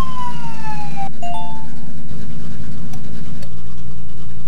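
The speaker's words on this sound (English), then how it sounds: "On the road, ambulance! This car should pass first." Ambulance siren in a Paw Patrol kids road-traffic video game, a synthetic wailing tone sweeping downward then cutting off, with a steady engine drone underneath throughout.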